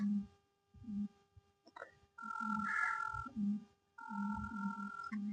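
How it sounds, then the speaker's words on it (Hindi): A phone's ringback tone after a number is dialed: repeated steady electronic rings in regular bursts, close and clear, with short pauses between them and a few brief voice sounds in the gaps. "अब मैं कॉल कर रहा हूँ।"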